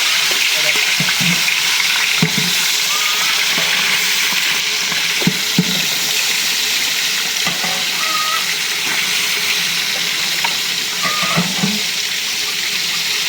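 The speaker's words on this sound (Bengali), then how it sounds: "তেল হিট হয়ে গেছে, এই যে মাংস ভাজার লেগে দিয়ে দিলাম।" Meat fries in hot oil for biryani, a loud steady sizzle with intermittent stirring clatter and bubbling throughout.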